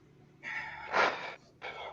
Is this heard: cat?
no